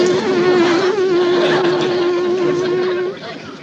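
A voice imitates buzzing bees with a sustained, nasal, wavering drone held loud and close for about three seconds before it drops off.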